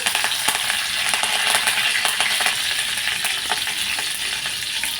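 Crushed garlic and curry leaves sizzle in hot oil with fenugreek seeds for a buttermilk kadhi, a dense, steady crackling fry with scattered sharper pops as the pan is stirred.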